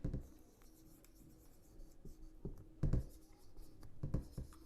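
Writing on a board during a Class 9 physics lecture, soft scratchy strokes and taps coming in short irregular bursts, fairly faint, with no talk over them.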